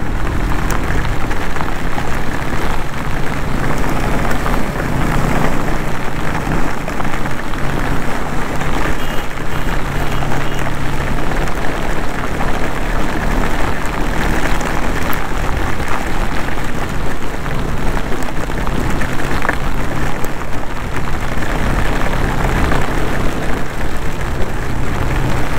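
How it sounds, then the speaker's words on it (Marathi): Heavy monsoon rain pours down in Mumbai while driving, a dense, constant hiss and roar that stays loud and close throughout, with no one talking. "व्हिडिओमध्ये तुम्हाला कळत असेल की काय फ्लोने पाऊस पडतोय"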